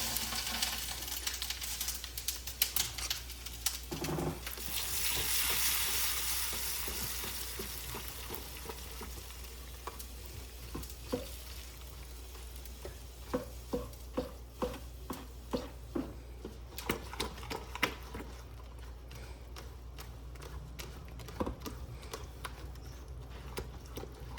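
Hot tempering (vaghar) of oil with curry leaves sizzles briefly, then gets stirred into handvo batter. A spoon clicks and taps against the bowl repeatedly at close range.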